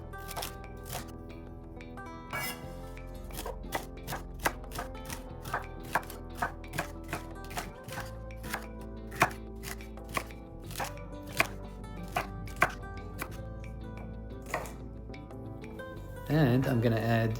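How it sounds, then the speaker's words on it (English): Knife chopping celery into small pieces on a board, a steady run of sharp, close taps over soft background music, ending in a brief louder burst. "Then chop into small pieces."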